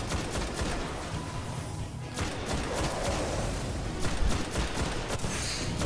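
Dense bursts of gunfire from the video game Destiny crackle in rapid succession, a loud continuous fusillade with sharp individual shots layered through it.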